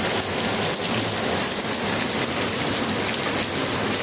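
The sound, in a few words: heavy rain falling at night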